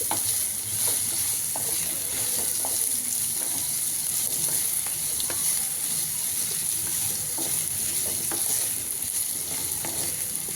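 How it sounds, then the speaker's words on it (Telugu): Ingredients for a pachadi chutney fry steadily in a pan, a continuous close hiss of sizzling with occasional stirring scrapes throughout, no voices. "మరీ అంత వేయించవసరలేదు కానీ ఇది పట్టిపోయే వరకు వేయించుకోవాలి"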